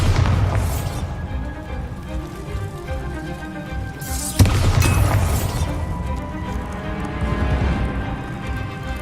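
Bombarda spell blast against a wall in Hogwarts Legacy: a sharp single impact mid-clip over a dense, loud game soundscape of rumbling music and ambience.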